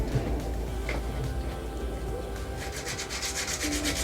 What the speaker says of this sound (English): You could take these and just use hand sandpaper. Just sand them with your hand.